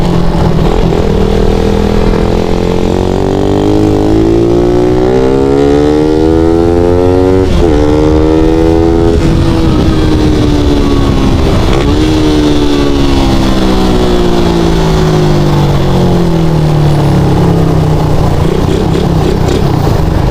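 A Suzuki Raider 150 motorcycle engine while riding, a loud, close, continuous drone whose pitch rises and falls with shifts and throttle changes over about twenty seconds, with heavy wind rush underneath.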